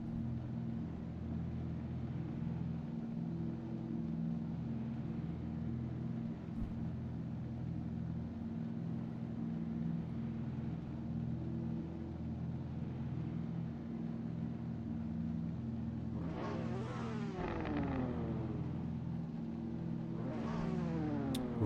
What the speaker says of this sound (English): Revving the engines already as we await the start of the final race.